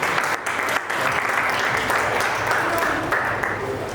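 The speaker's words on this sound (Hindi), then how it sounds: "आप सभी से निवेदन है कि जोरदार तालियों से स्वागत करें।" Audience applause welcoming a guest onto the stage at a Sanatan Dharma and astrology conference and scholars' honour ceremony, a dense sustained clapping of a crowd in a hall, fairly loud and even for the whole stretch.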